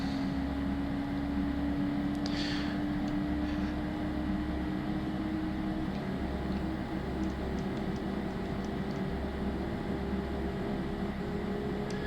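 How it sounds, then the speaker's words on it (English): An F-14D Tomcat jet engine in Flight Simulator X spools up to a steady roaring drone with a rising whine layered over it, continuous and fairly loud throughout. "there goes one engine"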